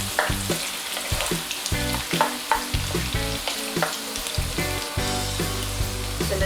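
Garlic sizzles in hot oil in a pan while cooking beef kaldereta, a steady close frying hiss broken by rhythmic scrapes and clacks of stirring, with faint music underneath.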